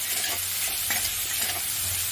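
Ridge gourd stir-fry being stirred in a pan, with a steady sizzle and several sharp clinks of a spoon against the metal vessel at irregular moments, close and moderately loud.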